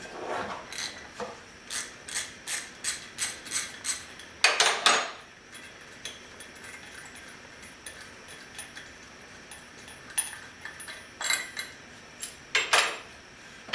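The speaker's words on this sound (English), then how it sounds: "Removing the driven clutch is pretty easy. It just has 1/2 inch bolt holding it in place." A ratchet wrench loosens a half-inch bolt holding the driven clutch on a Polaris ATV, giving quick runs of metallic clicks with pauses and clanks, close and fairly quiet, without talking.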